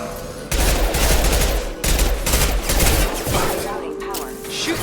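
Dense gunfire in a firefight from the video game Mass Effect 2, with rapid overlapping bursts that are loud and close, continuous across the clip with brief gaps.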